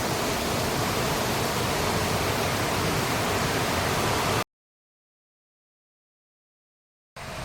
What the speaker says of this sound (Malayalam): വെള്ളത്തിൻ്റെ ഇരപ്പ് കൊണ്ടൊന്നും കേൾക്കത്തില്ല